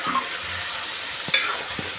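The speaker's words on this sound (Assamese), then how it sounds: "এতিয়া ঢাকনা খুলি অকণমান লৰাই দিম।" Duck meat and white gourd stirred in a pan after lifting the lid, a soft continuous sizzle with a couple of brief scraping knocks of the spatula.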